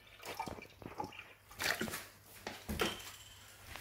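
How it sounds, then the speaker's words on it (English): Water poured from a measure into a hot cooking pan of moussaka sauce, heard as faint splashing and dripping with a few louder bursts of liquid, close by and without talk. "200ml of water, in it goes."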